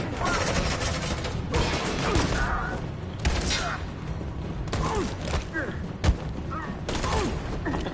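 Suppressing gunfire during a shootout in the game Detroit: Become Human, with several loud, sharp volleys at irregular intervals amid crashes and ongoing battle noise.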